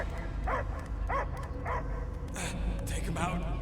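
A dog barks and yelps in the Guardians of the Galaxy video game, several short bursts spread across the moment, mixed with game music and sound effects.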